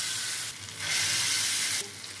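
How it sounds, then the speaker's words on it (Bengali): Stuffed pieces dropped into hot oil and frying, a steady hiss that swells louder for about a second, then settles back to a lower sizzle, with no talking. "এখন তেলে ছেড়ে দেবো"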